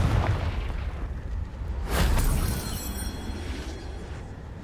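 Confringo spell explosion in Hogwarts Legacy, a deep booming blast with a bright burst that rolls off into a rumbling tail, heard once amid low background noise.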